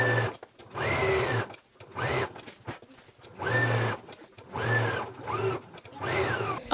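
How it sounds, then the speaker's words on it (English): A sewing machine stitches through all layers of a jacket yoke in a series of bursts, each lasting under a second, with a whining motor pitch that rises and falls between short pauses. "So I'm gonna take it to the machine, and we're gonna stitch through all layers."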